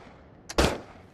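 A gunshot in the VR game Into the Radius, a short faint click followed by one sharp, loud crack that fades quickly.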